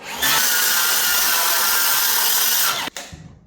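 A power saw rips a groove off the edge of a wooden door, a loud continuous whining cut of about three seconds that stops abruptly, then spins down.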